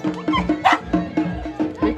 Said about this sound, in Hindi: ये कुत्ता के पागल हो गए।